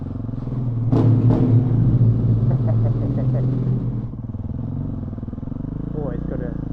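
A vehicle engine on a Cape York trip revs up into a loud, close roar, holds for a few seconds, then settles back to a steady idle rumble while a voice talks nearby.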